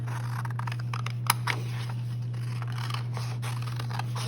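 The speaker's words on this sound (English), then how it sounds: "So what I'm going to do is just cut along the roofs of my building." Scissors snip paper as someone cuts out a city skyline along the building rooftops: quiet, irregular small clicks and scrapes over a low steady hum, with one sharper snip partway through.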